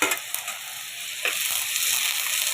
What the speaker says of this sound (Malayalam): ഇവിടെ ഇഞ്ചി വെളുത്തുള്ളി ചതച്ചത് അങ്ങോട്ട് ഇട്ട് കൊടുക്കുക